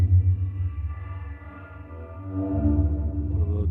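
A sampler tone with heavy reverb drones low and sustained, its washy overtones swelling and drifting across the few seconds with no talking.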